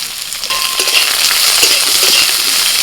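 Chopped onions, green and dried chillies, whole peppercorns, ginger and garlic frying in hot oil as a spatula stirs them, a loud continuous sizzle with scraping close by.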